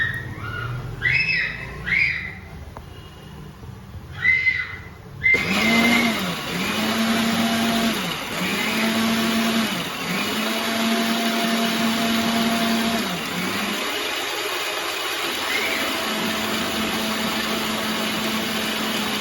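A kitchen mixer grinder blends coconut chutney. After a few seconds of quiet clatter, a loud, high motor whir starts and runs steadily, its tone swelling and dipping in a repeated rhythm as the contents churn.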